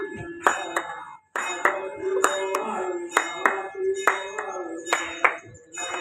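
A man claps his hands in a steady repeated rhythm during an outdoor ground workout for police recruitment training, sharp claps close by over voices and background chatter.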